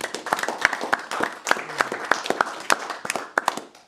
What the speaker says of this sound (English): I think we can give them both a round of applause.